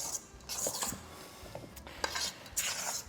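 A fork mixes sourdough bread dough in a bowl, giving soft irregular scrapes and light metallic clinks in quick bursts, close up and moderately quiet, with no talking.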